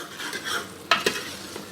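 A spoon stirs spiced pumpkin curry in a pan over a soft, continuous sizzle, with two quick scraping clinks of metal on the pan close by.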